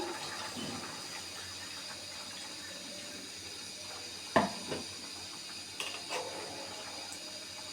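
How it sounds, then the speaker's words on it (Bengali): Water is poured into a pot of boiled beef and potatoes, a steady hissing rush that runs throughout, with a sharp knock partway through and a few softer clinks near the end. "এখানে পরিমাণ মতো পানি দিয়ে দিলাম"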